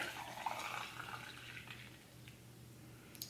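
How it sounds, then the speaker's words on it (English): Hot water pours from a kettle into a loose-leaf tea infuser holding pumpkin Earl Grey, a soft steady trickle and splash that runs for a few seconds with a faint low hum beneath. "pour in our hot water"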